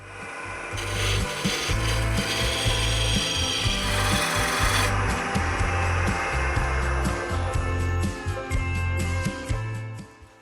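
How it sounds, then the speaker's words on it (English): A wooden blank for a lidded box spins on a lathe while a tool cuts it, giving a loud sustained motor hum under rough, scraping wood-cutting noise that shifts in intensity, close throughout. "We're going to put this on the lathe and turn it around and put a tenon on each end"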